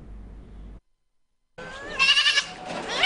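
Stray goats impounded in Loum bleat loudly and repeatedly in close, wavering cries, starting after a brief stretch of low murmuring background noise and a short silence.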